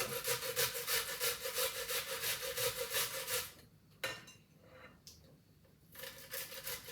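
Onion rubbed against a hand grater over a bowl for coleslaw, a close rhythmic rasping scrape in quick repeated strokes that stops partway, followed by a couple of faint clicks and handling noises.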